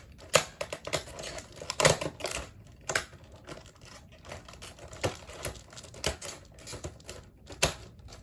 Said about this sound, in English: Okay, I'm gonna have to cut the other side as well.